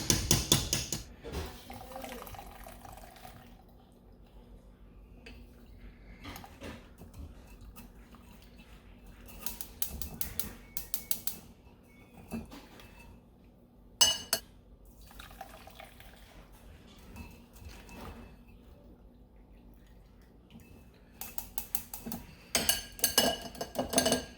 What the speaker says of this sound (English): now we'll sieve this out